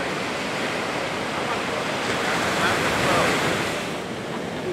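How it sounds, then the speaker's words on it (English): Ocean surf breaks on a shore in a broad, continuous wash of roaring water that swells slightly midway, mixed with wind buffeting the microphone. "I'm trying to time it with the waves."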